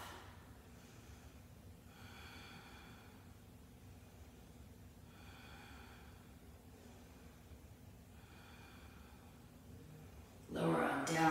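Slow, deep breathing while holding a yoga pose, four soft rhythmic breath cycles spaced evenly and close to the mic, ending with a brief louder rustle.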